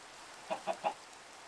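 Three quick clucks from Minecraft chickens, evenly spaced in a short burst, fairly faint and alone against a quiet background.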